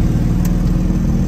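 Citroën Ami 6 engine droning steadily from inside the car while driving, a loud, even low hum with no breaks.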